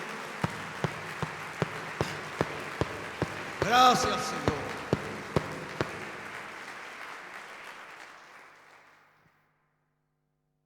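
A church congregation claps in a steady, evenly spaced rhythm, with sharp beats under a reverberant wash. A voice briefly speaks partway through, and then the room sound fades away to silence.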